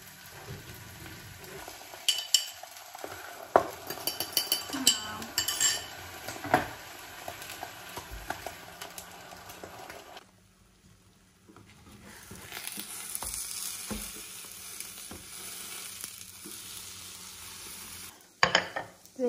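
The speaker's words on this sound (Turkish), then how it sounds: "Ekmeğim kızartılıyor." Bread toasting in an evening kitchen alongside breakfast-style prep, with a steady hiss and crackle, scattered clinks of dishes and cutlery, a quiet lull midway, then the hiss returning with a sharp knock near the end.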